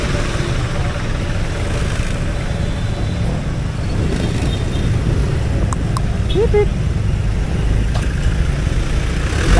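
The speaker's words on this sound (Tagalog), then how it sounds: "Tingnan nyo naman ang traffic." Car engines idle in heavy road traffic in Las Piñas, a steady low rumble filling the scene while people talk nearby and brief clanks come through.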